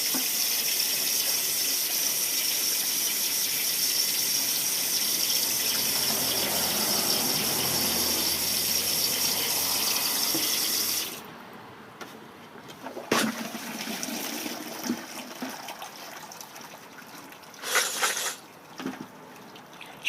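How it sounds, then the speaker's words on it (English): Water runs steadily from a tap over brass cartridge cases in a strainer for about eleven seconds, then stops, leaving quieter splashes, drips and clinks of wet metal. "Then we start doing the rinsing."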